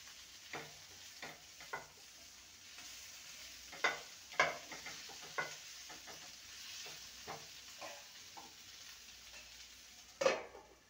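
Bitter gourd and tomato frying in a covered pan for a mustard bitter gourd dish, giving a quiet steady sizzle broken by scattered sharp pops and a few clinks of stirring, with one louder crackle near the end.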